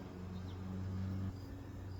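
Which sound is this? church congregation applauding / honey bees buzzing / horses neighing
honey bees buzzing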